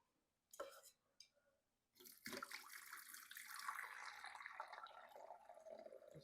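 Water is poured into a pounded yam machine, a gurgling splashing stream starting after a few clinks and continuing steadily, close and quiet, with brief talk early on.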